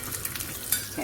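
Chillies fry in a tempering of mustard seeds, urad dal and curry leaves for chutney, a quick close sizzle with a few light stirring scrapes in a short burst.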